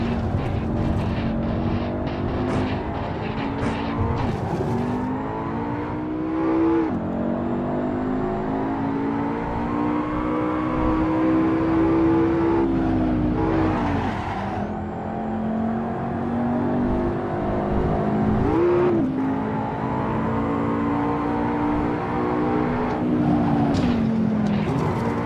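A loud car engine from the racing game Assetto Corsa drones and revs continuously, pitch climbing and dropping through shifts, with a brief louder surge midway; steady and close throughout.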